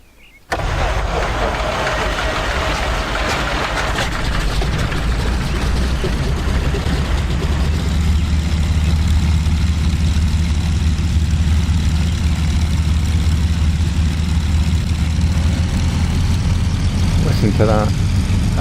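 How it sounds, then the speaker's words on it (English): Winjeel aircraft engine in a flight simulator game, cranking and catching with a loud sudden start, then settling into a steady, heavy low idle that drones on loudly. "Anyway, have a listen to the engine start."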